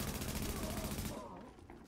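Gunfire in The Division game, a brief dense burst of rapid shots that fades quickly into quieter background.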